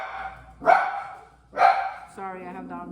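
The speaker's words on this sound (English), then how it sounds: "Sorry, I have dogs." Indoor household dogs bark loudly twice in quick succession during a scuffle with a cat, then a whining, tonal yelp trails off.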